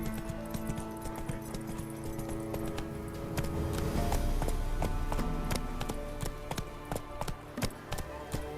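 Roach, Geralt's horse in The Witcher 3, clip-clops along in a steady galloping rhythm, the repeated hoof strikes sharp and close over a dense bed of game music and ambience.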